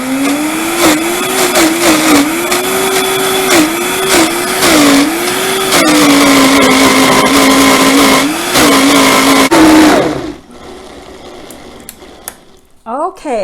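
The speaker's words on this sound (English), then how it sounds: "Okay, I've been blending away here, blending and plunging." A blender whirs loudly as it blends a vegan cheese mixture with tomato paste, its motor pitch wavering and dipping under load for about ten seconds before cutting off, followed by a few faint knocks.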